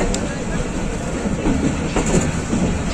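Pakistan Railways Rehman Baba Express passenger train rolling along the Wazirabad–Khanewal branch line, a steady, loud broadband rumble of wheels on rails with faint rhythmic clatter throughout.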